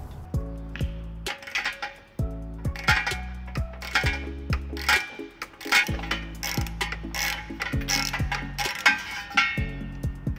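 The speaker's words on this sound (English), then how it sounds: "We're gonna be using a 15 millimeter socket and an 18 millimeter socket." A ratchet socket wrench with 15 mm and 18 mm sockets loosening a frame bolt on a 2014 Dodge Grand Caravan during a trailer hitch install, a close series of rapid clicking ratchet strokes in uneven bursts with brief pauses.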